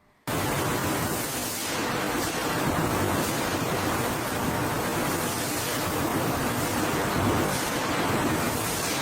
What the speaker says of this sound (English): high-pressure water jets initiate the crucial first stage of cleaning, ensuring every apple is meticulously prepared